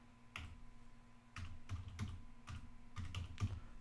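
Keystrokes clatter on a computer keyboard in short irregular bursts of a few clicks each, close and fairly quiet over a steady low electrical hum.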